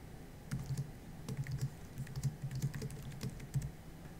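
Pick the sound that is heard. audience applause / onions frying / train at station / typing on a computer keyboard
typing on a computer keyboard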